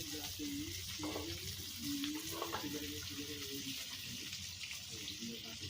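Koi fish fry in hot oil with a steady, close sizzle and bubbling throughout, and a voice speaks over it.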